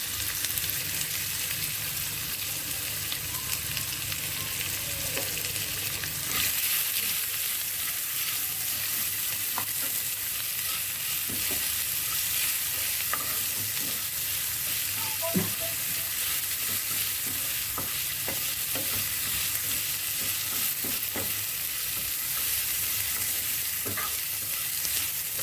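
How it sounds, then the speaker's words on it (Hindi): Chopped onions sizzle steadily in a hot pan for a Hindi-style raw guava sabzi, a continuous close frying hiss with occasional spoon scrapes and stirs, no voices. "अब डाल देंगे इसमें प्याज साथ के साथ, और प्याज को पिंक होने तक यानी कि ट्रांसलूसेंट होने तक पकाएंगे।"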